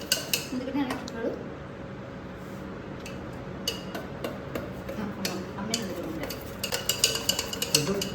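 A manual beater stirring cake batter in a bowl, producing a run of clicking, ticking taps that grow busier toward the end, with a faint background hum.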